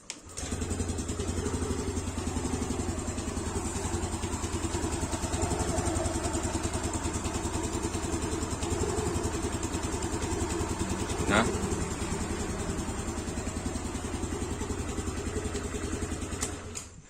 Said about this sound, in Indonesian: Nah, ini suara mesinnya jadi kalem banget ya.